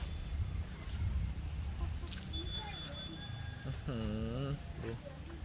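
A chicken clucks a few times, with a short harmonic call near the end, over steady outdoor background noise and some faint voices.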